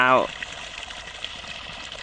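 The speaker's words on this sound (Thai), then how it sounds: "เดี๋ยวผมจะให้ดูอัตราน้ำไหลนะครับ" A brief voice at the start, then steady rushing and splashing water from a solar-powered one-horsepower pump, flowing continuously at moderate volume.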